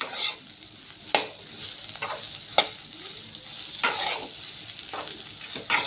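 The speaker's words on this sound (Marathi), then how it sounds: "भेंडी अशी शिजून द्यायची" Okra cooks in a pan with a constant close sizzle, stirred every second or so by a utensil that scrapes and clacks against the pan, without talk.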